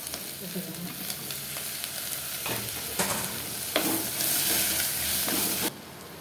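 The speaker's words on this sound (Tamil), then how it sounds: "இஞ்சி பூண்டு பேஸ்ட்டு கொஞ்சம் போட்டுக்கோங்க ரெண்டு தக்காளி கட் பண்ணி வச்சுருக்கேன்" Ginger garlic paste and tomatoes frying for a sardine curry, a loud continuous sizzle broken by several scraping stirs, rising near the end before cutting off.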